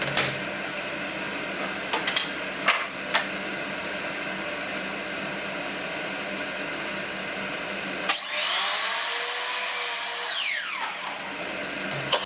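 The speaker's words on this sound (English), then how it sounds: "all I got to do now is cut these strips to final length" A power saw cuts wood strips to final length: a few light knocks over quiet shop hum, then one loud, steady two-second cutting whine that stops abruptly.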